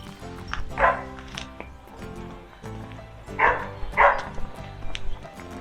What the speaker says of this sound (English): I hear somebody's got a dog in the pool area.